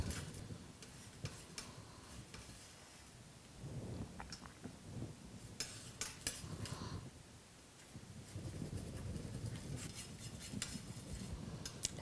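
A palette knife mixes black and white paint on a palette, quiet scraping and tapping strokes in irregular bursts with soft dabbing sounds and short pauses, close and faint.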